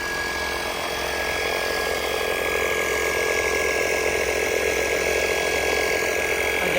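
A portable air compressor inflator runs at a school, giving a steady, loud mechanical drone with a faint whine that holds at an even level throughout, with no talking.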